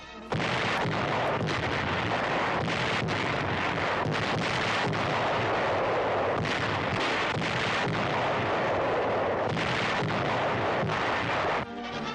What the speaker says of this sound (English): Heavy guns force the enemy lines to break at Anzio.